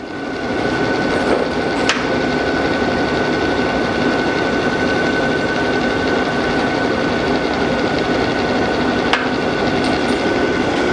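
A grinding machine's table reciprocates back and forth on adjustable stops, making a steady loud mechanical drone and hum. Two sharp clicks mark the stops reversing, far apart in time, with no speech.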